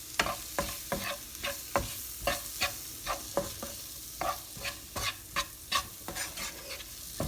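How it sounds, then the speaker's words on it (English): A black bean and potato stir-fry seasoned with cumin powder is stirred in a sizzling pan, with close, regular scraping strokes about twice a second over a steady frying hiss. "And then about half a teaspoon of cumin powder. Right, give that a mix."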